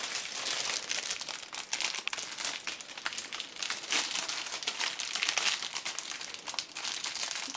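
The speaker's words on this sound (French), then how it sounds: "Parfois, défaire un emballage est compliqué." Plastic medical supply packaging is unwrapped up close during home infusion care, giving continuous dense crinkling and rustling with sharp crackles and no talking.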